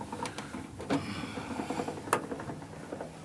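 The crank window of a 1951 Chevrolet five-window pickup is rolled up and down, giving a soft, continuous mechanical grinding and whirring with a few faint clicks, close by and with no talking.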